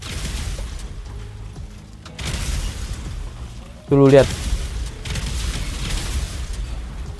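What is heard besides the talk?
explosion in a video game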